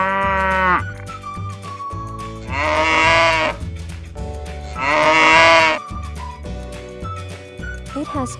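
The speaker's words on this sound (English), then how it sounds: "This is a cow." A cow moos loudly three times, long drawn-out calls with pauses between, close and clear, with a soft voice speaking in the gaps.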